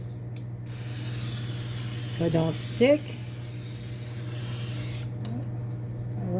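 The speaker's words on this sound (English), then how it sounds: "We're going to spray our pan really good" Cooking spray hisses steadily onto a baking pan for several seconds, a close continuous spray with a brief pause, while a person talks over it during a chicken casserole preparation.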